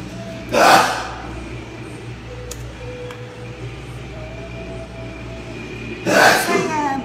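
Two sharp, close sneezes several seconds apart, each a short loud burst over a quiet room background with a low steady hum.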